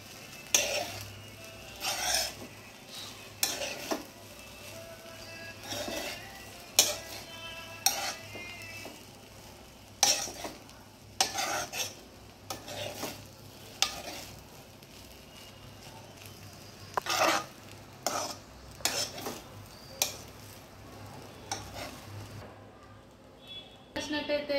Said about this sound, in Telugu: రైస్ కూడా వేసినాక మొత్తం కలిసేలాగా బాగా చూసారు కదా, వేసిన రైస్కి ఆ కారం ఉప్పు అన్నీ పట్టేలాగా అయితే బాగా కలుపుకోవాలి